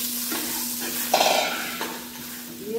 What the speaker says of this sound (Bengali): দিয়ে একটু ভালো করে ভাজা ভাজা করবো।